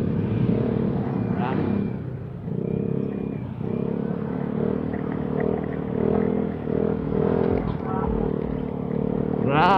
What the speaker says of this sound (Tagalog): Mga big bikers.